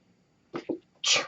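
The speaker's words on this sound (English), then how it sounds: "had to sneeze" A single close, sharp sneeze with a short inhaled buildup, a quick catch of breath, then a loud explosive burst.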